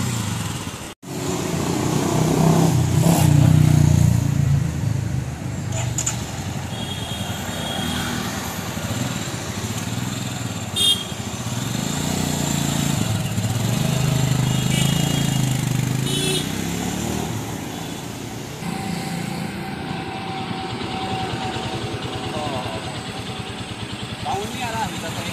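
A new adventure motorcycle's engine runs at idle and rises into revs, a sustained low rumble that swells and eases over time, with people talking over it.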